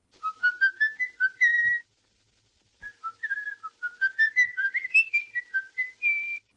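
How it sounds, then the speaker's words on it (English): Off-key whistling of "In the Hall of the Mountain King" from the 1931 film M, a lone melodic whistle in two phrases separated by a second of silence, close and clear with no talking. "a simple, off-key whistle of "In the Hall of the Mountain King.""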